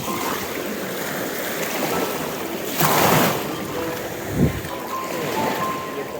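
Steady wash of sea surf on a beach in Odesa with a rushing wave swell near the middle, mixed with wind buffeting the microphone.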